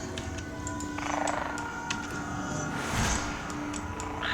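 Frogs croak in World of Warcraft, a few faint croaks scattered over a quiet game ambience with no talking.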